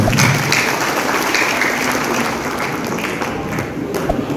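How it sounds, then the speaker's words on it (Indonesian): A crowd applauds at a Golkar party regional working meeting, a steady wash of clapping that holds for several seconds and thins slightly toward the end, with no clear speech on top. "Tepuk tangan untuk kita semua"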